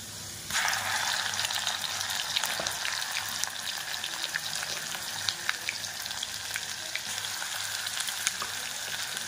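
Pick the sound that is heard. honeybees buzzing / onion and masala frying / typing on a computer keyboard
onion and masala frying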